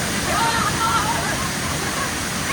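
Hogenakkal waterfall on the Karnataka–Tamil Nadu border thunders in a dense, steady roar of falling water, close and loud, with no pauses.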